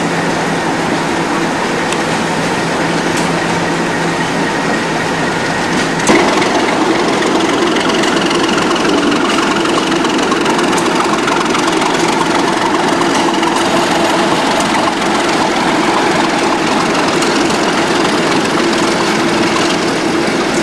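A pair of Class 37 diesel locomotives idling at a colliery at night, a loud, steady, close drone with a constant tonal hum and a slight change partway through, no speech.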